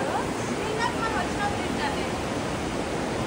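Rushing river water at Manikaran in the Himalayas flows as a loud, steady broadband roar throughout, with faint voices underneath.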